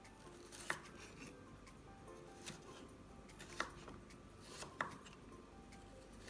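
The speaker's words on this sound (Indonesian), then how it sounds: "Wortelnya dipotong memanjang." A knife slicing carrots lengthwise on a cutting board, with a few sharp, faint cuts spaced irregularly over a quiet kitchen background.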